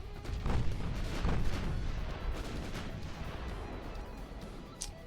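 Naval gunfire and shell impacts in the warship game Ultimate Admiral: Dreadnoughts, including 5-inch gun hits, give a dense, continuous rumble of booms and crashes with a brief sharper burst near the end.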